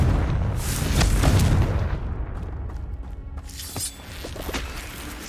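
Confringo blasting-spell explosions in the Hogwarts Legacy video game: loud, booming blasts with crackling debris, strongest early and trailing into a rumbling tail, with a softer burst near the end.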